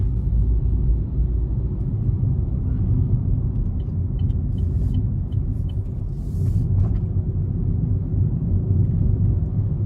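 A 2021 Chevrolet Spark with a 1.4-liter, 98-horsepower engine on the road, heard from inside the cabin as a loud, steady low drone of engine and road rumble with no talking.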